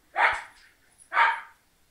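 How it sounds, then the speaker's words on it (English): A dog barks twice, two loud, close, separate woofs about a second apart with quiet between them. "He can hear that barking"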